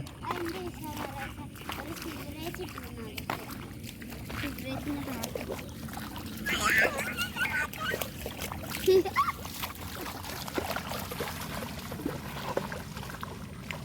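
Splashing and trickling water close by as children play in a stream, with children's voices and adult talk mixed throughout.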